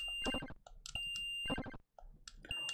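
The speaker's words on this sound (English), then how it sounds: "I cannot listen to that high-pitched whistle too high for the whole thing." A shrill, steady high-pitched whistle from the Space Invaders arcade game sounds in repeated stretches, mixed with sharp clicky shooting effects and bursts of game noise.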